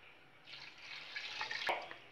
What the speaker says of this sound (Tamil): இது மூங்குற அளவுக்கு தண்ணீர் விட்டுக்குருவோம்.